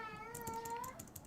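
A foster cat meows close by in one drawn-out, rising and falling cry, with a second short call near the end, fairly soft against a quiet room.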